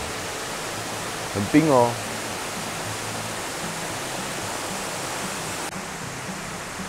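Dexing Waterfall in Lugu, Nantou pours in a steady, broadband rush that fills the whole clip, with a brief spoken voice near the start over the constant roar.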